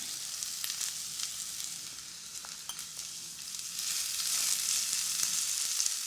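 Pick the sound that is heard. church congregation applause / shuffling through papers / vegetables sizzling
vegetables sizzling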